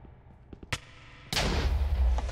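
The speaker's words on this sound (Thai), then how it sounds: "ทีนี้ระเบิดบึ้มบั้มบึ้มบั้มค่ะ" An explosion in a modded Minecraft roguelike game: a few faint clicks and one sharp crack, then a sudden loud blast that rolls on as a sustained rumbling roar.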